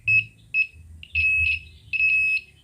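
Buzzer of a vehicle electrical tester powered by a 3.7 volt battery beeps in four short, shrill bursts, the last two longer, with a low hum beneath and no talk.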